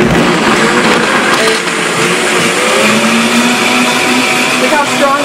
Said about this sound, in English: And then we're going to turn our Vitamix on.